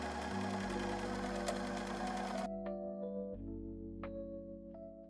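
Sewing machine stitching buttonholes on a vest, a steady mechanical whir running throughout, louder and busier in the first half before settling into a quieter, even hum with faint clicks.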